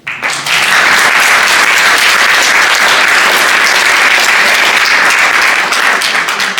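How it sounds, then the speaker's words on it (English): A conference audience at the World Health Summit breaks into sustained applause, a dense wash of clapping that starts abruptly and stays loud and steady throughout. "Round of applause for you."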